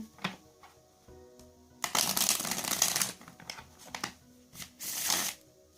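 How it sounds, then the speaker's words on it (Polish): A deck of cards is shuffled by hand in a quiet room. Soft riffling and clicking come in uneven bursts, with two longer, louder rushes of card flutter, and nobody talks. "Najpierw przytasuję karty."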